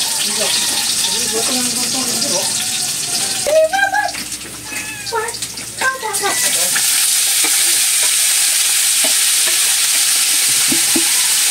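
Onions frying in hot oil in a pan, a steady loud sizzle running throughout, with some clattering and brief stirring noises in the middle.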